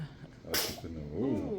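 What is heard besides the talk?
baby sneezing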